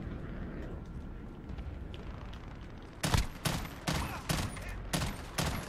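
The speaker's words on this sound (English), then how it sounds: "Who's shooting at me?" Bursts of gunfire in the video game Modern Warfare, a run of five or six sharp loud shots in quick succession following a few seconds of steady rumbling game noise, with no one talking.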